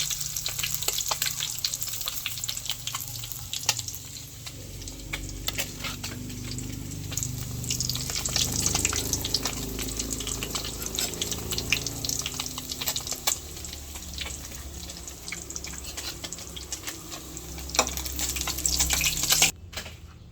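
Hotdogs frying in hot oil in a pan give a steady, crackling sizzle with small pops throughout, fairly close and continuous, with no one talking.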